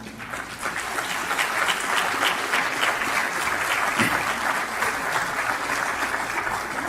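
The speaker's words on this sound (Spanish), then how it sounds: "Denle un aplauso al Señor" A crowd claps steadily in sustained applause, dense and fairly loud, holding at an even level throughout without cheering or speech.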